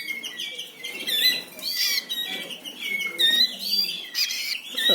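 Canaries chirp and twitter near their nest in a rapid, high, overlapping chorus of tweets and trills, loud and close with no pause throughout.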